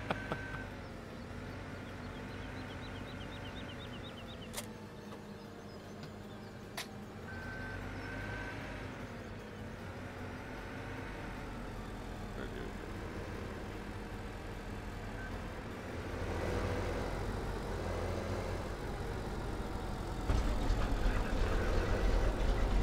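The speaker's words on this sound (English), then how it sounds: "Good lord, that truck sounds enormously badass" A large truck engine in Farming Simulator 17 rumbles low and steady, swelling louder toward the end, with intermittent reversing beeps and a brief hiss like an air brake.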